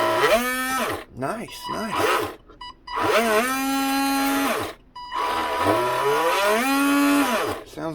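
An RC sport fishing boat's electric motor spins up in three bursts, each a whining tone that sweeps up in pitch, holds, then winds back down, close and loud, with a brief spoken word between runs.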